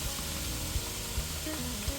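Drained ground beef for shepherd's pie sizzles as it goes back into a hot pan, a quiet steady frying hiss with a few soft clinks and stirring bumps, alone without talk.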